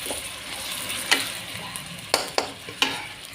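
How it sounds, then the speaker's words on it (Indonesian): Jengkol being stirred in a frying pan for Betawi semur, a low sizzle running throughout with several sharp scrapes and clacks of the spatula against the pan. "Centungin jengkolnya, aduk biar nyerep dan medok banget ya."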